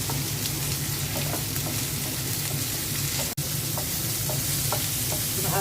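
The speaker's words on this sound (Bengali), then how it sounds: "এখন আমি চিংড়ি মাছ আর চিংড়ি মাছের মাথাগুলো বেছে রেখেছিলাম দিয়ে দিচ্ছি, আর দিয়ে দিচ্ছি লবণ" Shrimp and shrimp heads frying with salt in a pan make a continuous close hiss and crackle, steady and fairly loud, with one momentary dropout partway and no voices.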